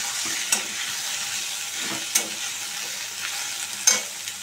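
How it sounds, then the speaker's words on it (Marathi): Potatoes stir-fried in a pan over a high gas flame for matar batata bhaji give a constant bright sizzle, punctuated by three or four sharp scrapes of a spatula against the pan. "बटाटे आपण चांगले परतून घेऊया. गॅसची फ्लेम मी मोठीच ठेवली आहे आणि पटापट आपल्याला याला परतून घ्यायचे,"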